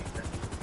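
Helicopter in a military simulation video game during training, a steady rhythmic rotor thump with a broad engine roar, continuous and fairly loud, with no speech.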